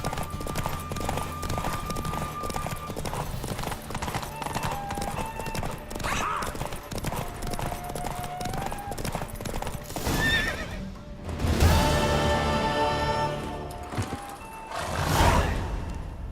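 Horse hooves clip-clopping at a gallop in the Witcher 3 video game, rhythmic hoof beats under game music, followed by a loud neigh and snorting toward the end.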